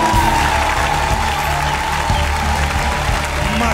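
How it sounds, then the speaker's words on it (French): A church congregation applauds during a French-language worship service, a steady wash of clapping hands that holds evenly throughout under a faint sustained tone and some murmuring. "Acclame Jésus le Christ"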